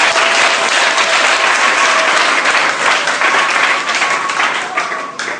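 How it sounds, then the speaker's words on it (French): A loud, sustained round of applause from a church congregation clapping for Jesus during a service, dense and unbroken, easing slightly toward the end. "Acclamons pour Jésus."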